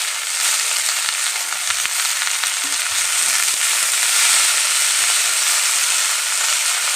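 Bathua (boitta) greens sizzle and fry in hot oil with garlic paste, a steady close hiss of frying held at an even level throughout, with faint stirring knocks and no talk.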